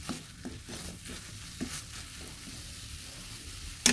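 Bottle gourd leaf paste with salt being stirred and dried in a pan, a faint soft sizzle under scraping strokes that come at an uneven rhythm, ending in a brief sharper clatter.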